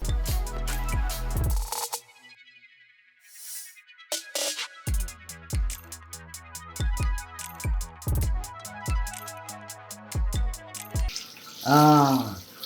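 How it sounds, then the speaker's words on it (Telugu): Snails being rinsed in clean water, with irregular splashes and sloshing from a tap or sink running through the clip and a louder burst of pouring near the end. "ఇవన్నీ మళ్ళీ వడకట్టేసి పోసేసి మళ్ళీ మంచి వాటర్తో కడిగేస్తా"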